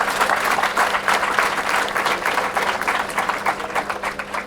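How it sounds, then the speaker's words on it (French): An audience at the inauguration of the UCAD FM 94.7 community radio station applauds steadily and loudly throughout, a dense, continuous wash of clapping from many hands. "Je vais avoir encore d'autres applaudissements pour eux."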